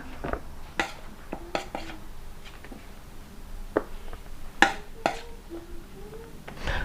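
Scattered metallic clinks and scrapes of a utensil against a pan while stir-frying fried chicken with cashew nuts, irregular and fairly close, over a quiet background hiss.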